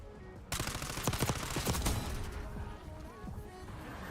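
Rapid bursts of gunfire crackle in a Call of Duty video game, a dense volley of sharp shots starting abruptly and thinning out into fainter scattered reports.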